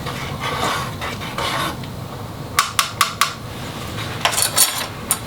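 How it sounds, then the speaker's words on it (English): Seasoned food is stirred in a metal canteen cup, a run of sharp clinks and scrapes from a spoon against the cup, fairly close, with no one talking. "So we'll give this a quick stir."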